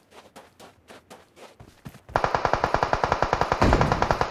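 Gunfire in the mobile game PUBG Mobile on the Miramar map: hurried footsteps give way to a loud, rapid burst of automatic fire, each shot sharp and evenly spaced, continuing to the end.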